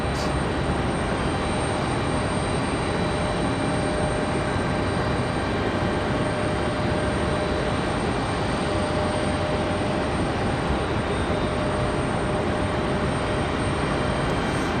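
An Alaska Airlines Boeing 737 MAX 8 at Raleigh-Durham airport produces a constant loud engine roar with a steady hum that fills the whole span, with no voices.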